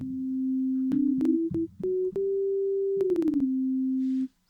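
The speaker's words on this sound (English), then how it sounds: "I'm just going to change the synth type to a sine wave." A steady sine wave tone from a Deluge synthesizer holds and steps up and down in pitch, with a few sharp clicks, then stops abruptly.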